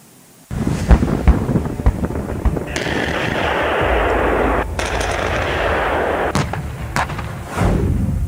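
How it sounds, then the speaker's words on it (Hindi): Heavy bombardment during the war in Ukraine, with sharp booming blasts and bursts of rapid fire layered over a sustained roaring rumble, loud and close, punctuated by several distinct impacts. "युद्ध के 13वें दिन भीषण बमबारी।"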